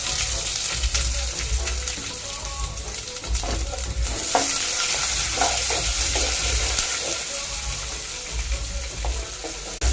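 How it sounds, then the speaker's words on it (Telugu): Onions frying in oil with mustard seeds, cumin and lentils, stirred now and then: a steady loud sizzle with scraping stir strokes throughout, no voices. "ఇప్పుడు ఆనియన్స్ వేసుకోవాలి"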